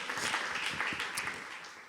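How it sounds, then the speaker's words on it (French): A small group claps for Cédric Georges, a brief burst of fairly close, uneven applause with scattered individual claps that thins out toward the end. "Cédric Georges, franchement, on applaudit, hein, Cédric Georges."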